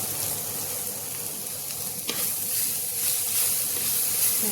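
Onions sizzle in hot oil in a frying pan with a steady, loud hiss and a few stirring scrapes, with no voices.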